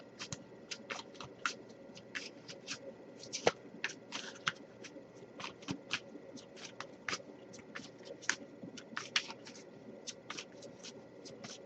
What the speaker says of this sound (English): but I'll give it a few more shuffles